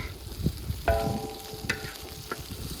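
Potato wedges sizzle in grease on a discada while being stirred with a wooden paddle, giving quiet frying with a few scraping clinks of the paddle.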